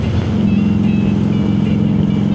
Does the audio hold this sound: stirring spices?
no